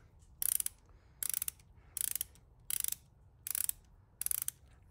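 Old-school Mac XRC5F ratchet clicking in six quick bursts, each a tight run of sharp metallic clicks separated by short pauses, close and clear.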